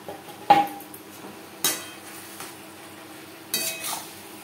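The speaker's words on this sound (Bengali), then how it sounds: "দিয়ে দেবো টুকরো করে কেটে রাখা ধুনুল।" Cut ridge gourd pieces dropped into spiced masala in a pan, a few sharp clinks and thuds of pieces and utensil against metal, spaced apart over faint cooking noise, with no talk.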